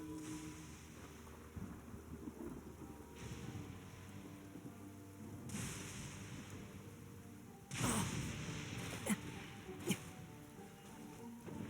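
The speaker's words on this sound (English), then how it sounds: "Taking a stroll in the middle of a downpour certainly rouses the spirit." A rain downpour in the video game Genshin Impact drums steadily on surfaces, with soft low rumbles beneath and a few louder bursts of heavier rain toward the end.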